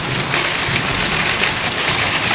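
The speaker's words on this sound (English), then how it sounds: "it's raining like a motherfucker" Heavy rain pours down steadily in a dense, loud hiss of drops, continuous and close, with no voices.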